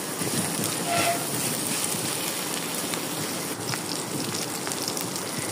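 Small prawns and taro stolons frying in a pan with turmeric, a dense steady sizzle throughout at close range.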